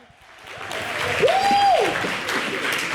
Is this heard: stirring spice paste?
no